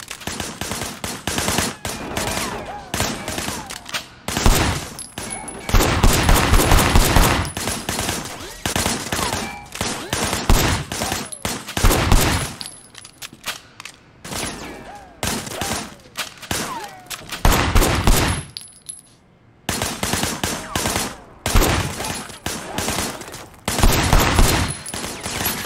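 Gunfire in the action game Sleeping Dogs: repeated bursts of automatic shots, loud and close, broken by brief lulls and one near-silent gap before firing resumes.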